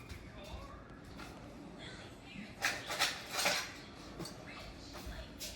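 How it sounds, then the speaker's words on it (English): Small spoon pressing butter down into a pot while cooking, producing faint scrapes and a few metallic clinks against the pot, with a person talking throughout. "I'm gonna push it down with a little spoon"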